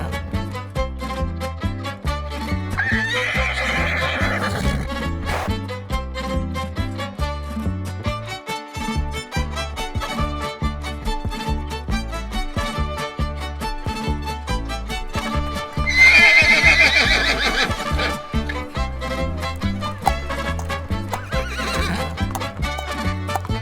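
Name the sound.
horses neighing and hooves clip-clopping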